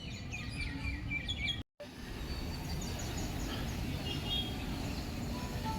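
Birds chirp and twitter high above a steady outdoor rumble in a Chennai park garden, with a brief silent gap partway through before the chatter resumes.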